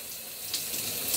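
Hot shower water streams steadily from the head in a continuous broadband hiss, close and fairly loud, with no talk over it.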